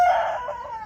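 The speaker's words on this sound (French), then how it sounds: "vous allez entendre le coq chanter au moins 3-4 fois" A rooster crows once, close and clear, a bright strained call that wavers and trails off, with no talk over it.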